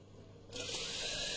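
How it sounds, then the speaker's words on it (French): Water poured into a baking dish for a shallow water bath before going into an oven preheated to 180, a steady close splashing pour that starts abruptly partway through and continues to the end. "Je vais y mettre un fond d'eau."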